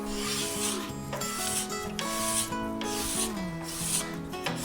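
A card scraper rubs over a piece of ebony wood in steady, repeated strokes, giving a close, continuous rasping scrape with a rhythmic push-pull pattern. There is no talking.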